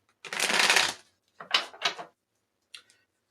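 Tarot cards are shuffled in a quick riffle, followed by a couple of shorter shuffles and a few soft taps, close up.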